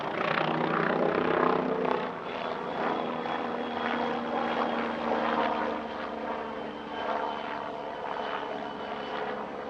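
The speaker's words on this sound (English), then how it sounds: "Here's a rather more manoeuvrable helicopter, the Flying Bulls Bo105, flying at a British airshow for the first time since 2018." A Flying Bulls Bo105 helicopter flies at an airshow, its rotor and engine noise a steady, fairly distant wash with faint pulsing over the whole stretch.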